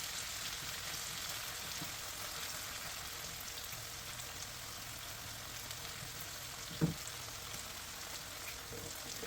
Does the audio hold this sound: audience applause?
no